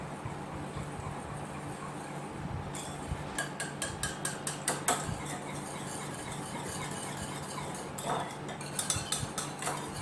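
Gelatin mixture for a milk cake custard pudding being stirred in a dish, with quick rhythmic metal clinks of a spoon against the vessel in bursts over a low steady background, no voices.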